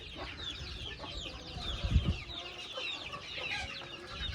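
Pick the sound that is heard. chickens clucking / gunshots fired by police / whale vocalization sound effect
chickens clucking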